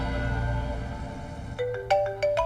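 Phone ringing in a Hindi-dubbed action film, a bright electronic tone in short repeated bursts that begins partway through over a low background hum.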